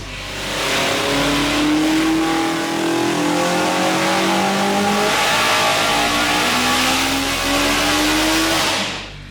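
A loud naturally aspirated Ford Escort Mk1 RS race engine on a dyno, revving toward 10,000 rpm hard and steadily, pitch rising in long sweeps, holding near full throttle before dropping off at the end.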